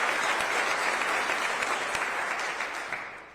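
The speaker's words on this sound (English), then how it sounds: "Everybody give them a big round of applause for all of them." Audience applause for fire division first responders, including an operations chief, at a White House event: dense, steady clapping that fills the whole stretch at an even level and only starts to thin out near the end.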